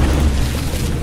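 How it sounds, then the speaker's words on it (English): A big explosion rocks a battleship in the naval combat game From The Depths, a sustained low, rumbling boom filling the whole brief moment at steady loudness with no talk over it. "That was a pretty big explosion."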